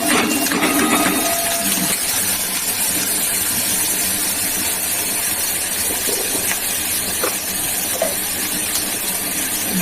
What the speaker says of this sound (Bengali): পনির ছিল, এগুলো একটু ভেজে নেবো।